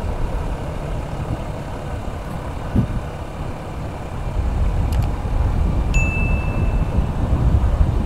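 A vehicle accelerates up a steep incline on a road in Kulon Progo. The engine rumbles steadily, then grows louder and heavier midway, with a few faint clicks and a brief high tone.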